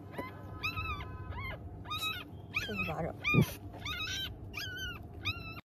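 A puppy trapped in a drain cries in a string of thin, high whimpers and whines, repeating steadily at close range while a person speaks over them.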